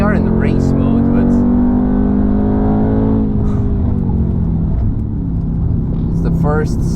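A Mercedes C63 AMG in race mode on the Nürburgring, its engine droning loudly from inside the cabin and falling in pitch as it eases off, then holding a steady hum while people talk over it.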